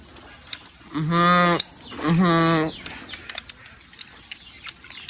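A goat lets out two drawn-out, wavering bleats in quick succession, close and loud, with quieter background noise and clicks around them.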